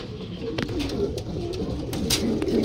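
Pigeons coo softly at their nest, low repeated throaty calls close by, mixed with light rustling and faint background noise.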